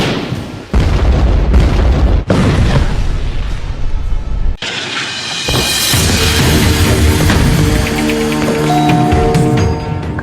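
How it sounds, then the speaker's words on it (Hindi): Bomb blasts from an Israeli airstrike on Gaza, several heavy booming explosions in quick succession followed by a long roaring, crackling rumble of debris and aftermath. "गाजा पट्टी पर इजरायल ने पहला बम गिराया।"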